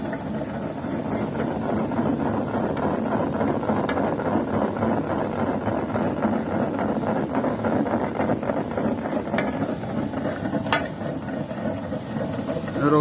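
Z.H.U Hammer HM-RO 215/100 pellet mill with its rollers running, giving a steady, fairly quiet mechanical whirring hum that holds evenly for the whole stretch, heard close up.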